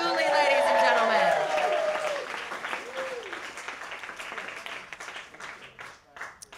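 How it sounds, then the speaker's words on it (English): Audience applause for Sarah Dooley at a live Twitter fiction festival show, a steady broadband clapping that fades gradually over several seconds, with a voice talking over it at the start. "Round of applause for Sarah Dooley, ladies and gentlemen."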